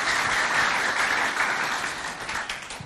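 Pupils and spectators at a primary-school event in Doba clap for a schoolchild. The applause is brief but lively, full at first, then thinning and fading within a few seconds.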